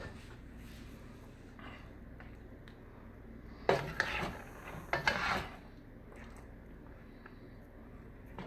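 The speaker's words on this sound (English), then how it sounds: "Okay, now I'm going to dish some out for dinner" A serving spoon scrapes and clinks against a pot while okra soup is dished out: several close, sharp metallic scrapes and knocks in two short bursts over quiet background.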